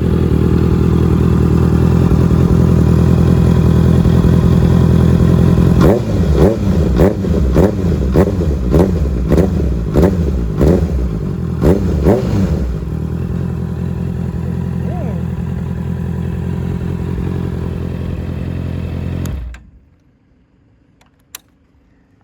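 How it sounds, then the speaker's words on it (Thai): A 2018 Honda CB650F motorcycle with a 2.5-inch slip-on exhaust idles with a deep, throaty rumble, then a quick series of sharp revs blips repeatedly before settling back and cutting off. "เดี๋ยวลองฟังเสียงท่อ สลิปออนนะครับ"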